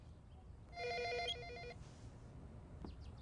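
A telephone bell rings indoors in a dubbed drama scene, one bright trilling burst of ringing followed by a quieter fading tail and faint room noise, with no one speaking.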